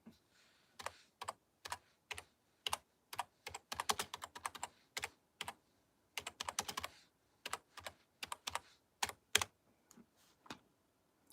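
Typing on a computer keyboard in irregular bursts of quick keystrokes with short pauses between them, close but fairly quiet, and no one speaking.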